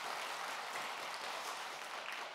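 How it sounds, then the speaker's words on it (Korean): A church congregation applauding volunteers during a worship service, a far, soft, continuous wash of many clapping hands with no distinct individual claps. "우리 자녀들을 위시해서 봉사하시는 모든 분들을 위해서 뜨겁게 박수로 격려하도록 하겠습니다"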